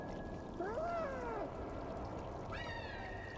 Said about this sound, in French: Oh, t'as beau faire miaou, hein.